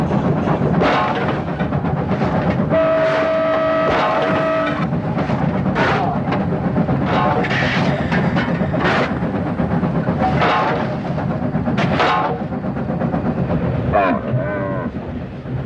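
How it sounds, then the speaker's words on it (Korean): Train slowly climbing a slope toward the Tian Shan mountains from the Gobi desert near Turpan, a steady rumbling roll with clanks and a held horn-like tone, mixed with animal calls from camels aboard. "어느덧 열차는 비탈길을 천천히 오르고 있었다."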